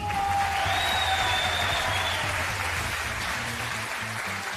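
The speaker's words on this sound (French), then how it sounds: "On l'applaudit." A television talent show audience in France applauds a magic act, a loud, full wash of clapping that swells at once and tapers slightly, with a thin whistle rising through it.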